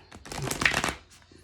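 Quick riffle of large cards being shuffled, a short burst of papery flapping close by that rises and fades within a second.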